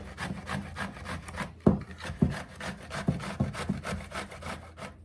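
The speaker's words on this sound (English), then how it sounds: "So we will just grate it the whole thing." Raw bottle gourd (lauki) grated by hand, with steady rhythmic rasping strokes repeating close up and a few sharper scrapes mixed in, and no talking.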